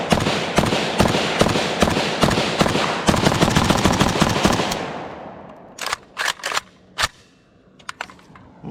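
A KUSA KR-103SF AK-pattern rifle firing steel-cased surplus ammunition outdoors: a loud, rapid string of close, sharp shots for about five seconds, then a few separate single cracks and short bursts with gaps between them.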